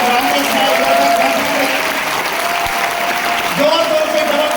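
Steady audience applause fills the whole stretch at a public gathering honoring a teacher, dense and continuous, with a voice threading through the clapping.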